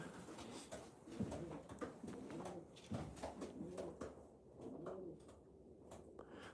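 Racing pigeons coo softly inside a loft at night, repeated low throaty calls rolling over one another, faint and fairly close, with small rustles and no speech.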